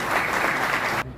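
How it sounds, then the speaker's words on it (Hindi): Close, dense clapping from an audience at a Delhi University Ambedkar Jayanti celebration holds steady for about a second and then cuts off sharply. "तालियां बजती रहनी चाहिए।"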